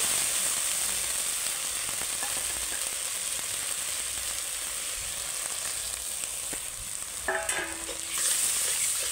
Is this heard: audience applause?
no